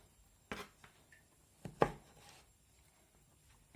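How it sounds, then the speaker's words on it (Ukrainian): A knife cuts peeled tangerines in half on a board, giving two separate, sharp cutting thuds close by with quiet pauses around them. "тепер дивіться, розріжу ось так навпіл"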